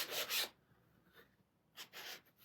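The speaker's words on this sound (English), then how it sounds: "Just take the sander to it." A sander runs over the painted edges of shiplap boards in two short, close bursts of rough rasping separated by a quiet pause.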